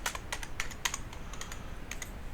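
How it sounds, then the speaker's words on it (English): Typing a short title on a computer keyboard, a quick run of close, crisp key clicks in irregular bursts with short pauses between them. "Now I have to type in a title."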